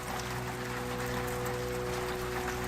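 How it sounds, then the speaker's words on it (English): Recorded rain plays behind a sustained low drone during a live meditation flute music stream, a soft steady patter over faint humming tones, even and continuous with no voice. "a drone and some rain sounds right now"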